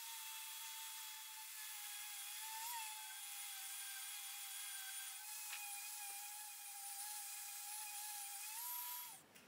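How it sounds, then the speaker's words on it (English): A power sander runs steadily over a giant wooden DIY Christmas tree, a continuous high whine with small dips in pitch as pressure changes, close and alone before cutting off. "I'm just going to give it a quick sand before we move on to the surface treatment."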